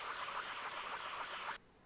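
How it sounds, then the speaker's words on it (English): A 3D-printed FDM plastic card being wet sanded with a sanding sponge gives a steady, close, continuous rubbing swish for about a second and a half, then stops abruptly, with no talk. "I took a sanding sponge and wet sanded the card."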